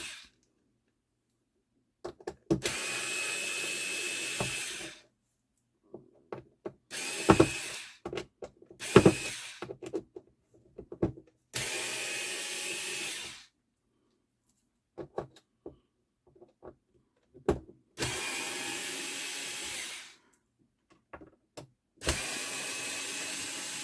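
A power drill backs screws out of a Sansui P-D20 turntable during an overhaul, several close bursts of whirring lasting one to three seconds each, separated by quiet gaps and small handling clicks.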